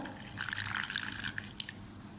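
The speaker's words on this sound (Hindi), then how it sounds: "और इसमें हम डालेंगे दूध" Milk pouring into a sauce for cheesy potato pizza fries, a brief steady trickling splash of liquid, close and fairly clear.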